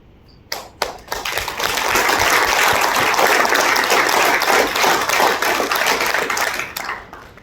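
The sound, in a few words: audience clapping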